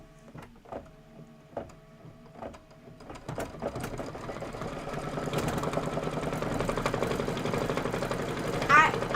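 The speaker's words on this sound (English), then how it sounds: "we're just going to be satin stitching" A sewing machine sews a satin stitch on a table topper, starting with a few separate clicks and taps, then building into a steady mechanical whir that continues to the end.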